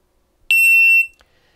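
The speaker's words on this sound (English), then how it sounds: "the beep is just nowhere near loud enough for a whole line to hear what's going on" A shot timer gives its start signal: one loud, steady electronic beep with a sharp onset, lasting about half a second, heard alone against near silence.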